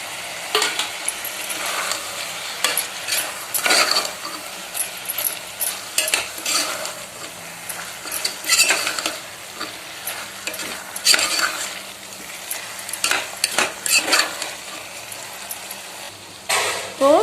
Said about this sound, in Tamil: இப்போ நம்ம எடுத்து வச்சிருக்கிற எல்லா மசாலா தூளும் சேர்த்து கலந்துக்கலாம்.